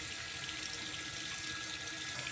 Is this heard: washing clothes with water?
yes